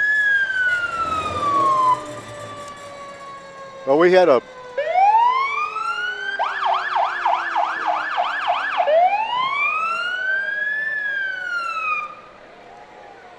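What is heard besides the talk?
fire truck sirens during a hometown parade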